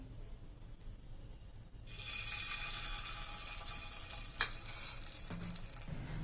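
Appe batter hits hot oil in an appe pan, starting a bright steady sizzle partway through after a quieter stretch, with a brief clatter and soft stirring noises around it.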